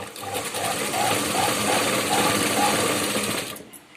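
A sewing machine stitching blouse lining runs in one steady, close, buzzing burst of rapid stitches for about three and a half seconds, then stops abruptly.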